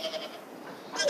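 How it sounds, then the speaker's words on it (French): An Icelandic Forystu sheep bleats, a short wavering nasal call that fades and then returns briefly at the end, close and moderately loud. "C'est un mouton Forustu. C'est une race exceptionnelle."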